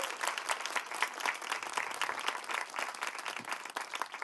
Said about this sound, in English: Big round of applause to these folks for stepping up,